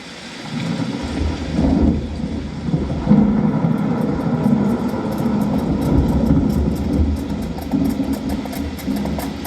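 Rolling thunder rumbles through a heavy rainstorm effect at a light and sound show at Amer in Jaipur, a loud, steady downpour with deep booms swelling after a quieter start.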